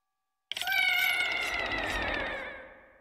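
A pet cat lets out a single drawn-out meow, close and clear, rising sharply and then fading over a couple of seconds, with no talk over it.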